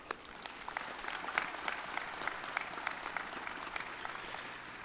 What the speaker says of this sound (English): let's give a round of applause for Kim Hartstock.